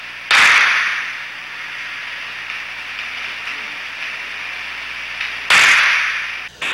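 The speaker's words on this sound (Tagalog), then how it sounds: "Sunod-sunod na putok ang maririnig mula sa gunman na dumaan sa lobby at tumuloy sa chip bank." Gunfire from a gunman moving through a casino lobby at Resorts World Manila, picked up on CCTV: two loud, sharp cracks several seconds apart over a steady hiss and murky background noise.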